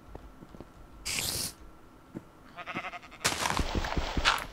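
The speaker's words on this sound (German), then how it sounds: "Ein Schaf." Sheep bleats in Minecraft, several short nasal calls between soft game clicks and footsteps, fairly close and clear, with a louder overlapping burst near the end.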